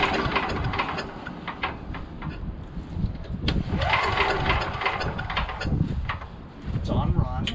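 Tecumseh 5HP engine on a lawn vacuum wood chipper being pull-started, with rough cranking bursts and engine noise mixed under someone talking throughout.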